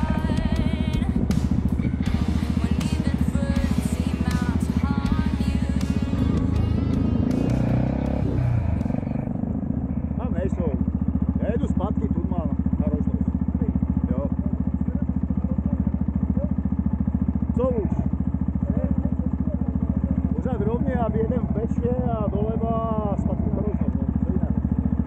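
A Jawa 350 OHC motorcycle on a group ride near Rožnov pod Radhoštěm drones steadily throughout, its engine and wind rumble loud and close, with a rider talking over the noise for most of the stretch.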